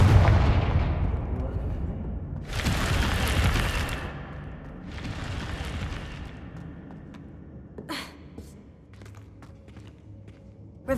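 Confringo fire-blast spell explosions in the video game Hogwarts Legacy: two loud, roaring blasts a couple of seconds apart over a low rumble, followed by a few sharp crackling pops and a final thump as the noise fades.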